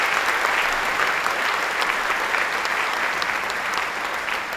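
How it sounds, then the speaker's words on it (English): A large audience gives the governor sustained applause at a SolarCity GigaFactory announcement at RiverBend, a dense, loud, even wash of clapping that holds steady and eases slightly toward the end. "Let's give our governor another round of applause."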